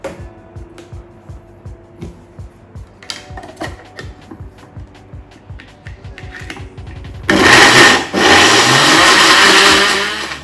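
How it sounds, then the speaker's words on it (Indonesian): A blender roars to life after a stretch of rhythmic clicking and clattering, its loud steady whir filling the last few seconds as it blends a spice paste for green chili vegetable stew. "Oke, kita bisa blender."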